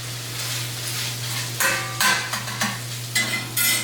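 Vegetables fry in leftover sausage fat in a cast iron pan, with a steady close sizzle under a low hum and several bursts of stirring scrapes toward the end.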